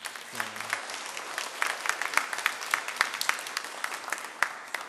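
A church congregation at a Sunday service claps to welcome visiting elders, a moderate scattered round of applause filling the room, with a brief spoken voice at the start.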